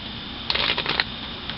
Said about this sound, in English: We're going to do a shuffle